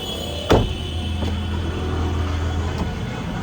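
Inside an Ola taxi car on the move, a steady low engine and road rumble fills the cabin, broken early by one sharp thump like a door and a few lighter knocks.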